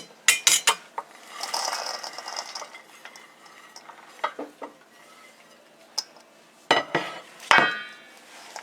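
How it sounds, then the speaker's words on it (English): Mincemeat ingredients tipped from containers into a big bowl in a home kitchen, heard as scattered clattering knocks and scraping rattles with quiet gaps between them, close and moderately loud, no talking. "So what we do now is we just dump all this in a big bowl."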